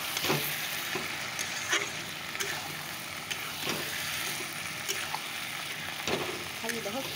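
Curry gravy hitting a hot pan of spices, a dense steady frying sizzle with scattered scrapes and taps of a spoon against the pan, moderately close.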